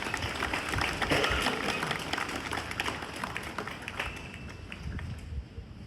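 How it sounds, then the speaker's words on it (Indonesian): An audience claps together at an official gathering, a moderate spread of scattered hand claps sustained throughout and easing slightly toward the end, with faint room murmur beneath. "Tepuk tangan dulu semua."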